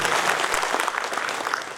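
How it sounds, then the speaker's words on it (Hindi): Participants at an ethics and governance training session applaud themselves loudly, a short, dense wash of many hands clapping together at close range. "दोस्तों अपने लिए एक बार जोर से ताली बजाएंगे."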